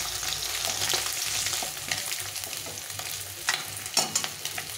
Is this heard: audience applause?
no